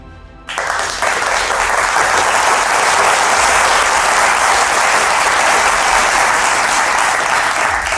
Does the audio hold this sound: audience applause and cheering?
yes